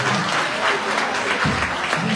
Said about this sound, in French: Applaudissez très fort pour le candidat.